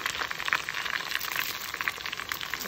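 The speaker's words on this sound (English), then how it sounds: "let it keep frying till it gets brown" Steady frying sizzle of onions, peppers and red chili in a pan, a continuous bright hiss with small crackles and pops, close and even throughout.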